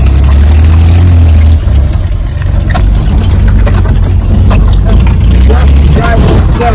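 A Chevy 4.3 TBI throttle-body engine on a wheeler idles loud and close with an uneven, hunting rhythm that refuses to settle, a steady low drone rising and dipping throughout.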